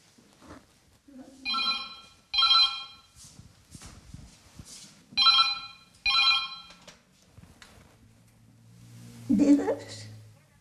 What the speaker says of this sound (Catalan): El telèfon, agafeu-lo, agafeu-lo.